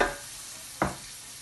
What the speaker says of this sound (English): Once you start getting that sizzle